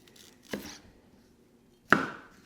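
A knife cuts baby corn into bite-sized pieces for chop suey. Two separate, crisp chops land on a board in a quiet room, roughly a second and a half apart.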